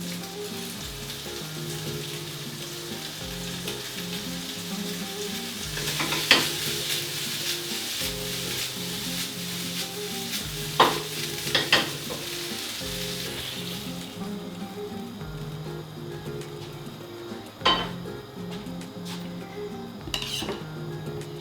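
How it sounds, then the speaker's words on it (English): Tagliatelle frying in a pan with olive oil from sardines, a steady sizzle broken by several sharp clinks and scrapes of utensils against the pan as it is stirred, the sizzle dropping off partway through. "So some tagliatelle going in."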